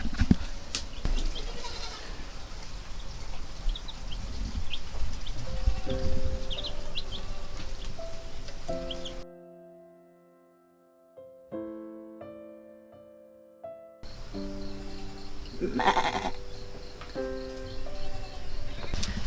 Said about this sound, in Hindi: बहुत सारा बकरी पाला हुआ है, 9 बकरी है यहाँ पर।